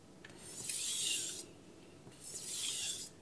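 A Mcusta Zanmai gyuto knife drawn across a Cerax whetstone, two soft rasping strokes, each about a second long with a short gap between, quiet and close.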